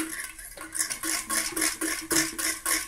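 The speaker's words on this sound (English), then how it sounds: "I'm going to give that a stir using high shear" A high-shear mixer stirring a natural nappy cream emulsion of oil and water phases, heard as repeated whirring bursts with clinking against the pot, close and fairly loud, with no voices.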